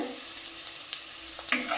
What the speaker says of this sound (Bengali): এই যে লবণটা আমি দিয়ে দিলাম পেঁয়াজে, তাহলে একটু তাড়াতাড়ি ভাজা হয়ে যাবে